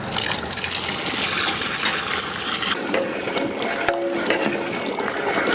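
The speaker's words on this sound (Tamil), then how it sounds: "3 லிட்டர் தண்ணி சேர்த்துக்கலாம்" Water pours steadily into a metal pot for mutton biryani, a continuous close splashing gush that runs for several seconds without a break.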